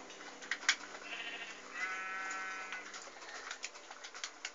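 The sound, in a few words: sheep bleating in a video game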